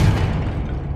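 A Confringo blasting-spell explosion in the video game Hogwarts Legacy, a single loud deep boom that rumbles and fades within a second.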